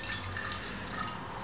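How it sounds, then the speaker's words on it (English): Home-brewed hard seltzer poured into a bottle, a short steady liquid fill with a faint glassy ring, close and unbroken. "Basically, just going to pour, and that level is quite good"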